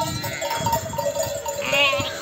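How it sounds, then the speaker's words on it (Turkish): Sheep bleat at a highland watering place, several overlapping calls over a busy outdoor background with faint bell-like clinks. "Koyunlar maşallah."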